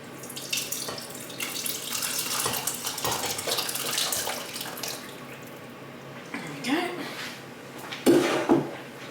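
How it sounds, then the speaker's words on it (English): Pork cooking juices tipped carefully from a slow cooker into a pan in a home kitchen, a running, splashing pour with light clinks of dishes and utensils, ending in a brief louder splash. "I'm just going to tip this carefully into a pan"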